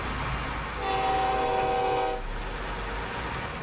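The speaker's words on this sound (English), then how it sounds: "See what the horn sounds like." A truck horn sounds in the SnowRunner video game, Amur Region map: one steady, loud tonal blast of about a second and a half, heard alone against a constant engine rumble.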